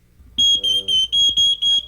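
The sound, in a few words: smoke detector alarm beeping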